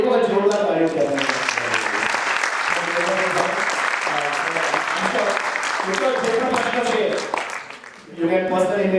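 Loud, dense audience applause at a conference session swells after a brief speaking voice, holds steady for several seconds, dips, and gives way to renewed speech.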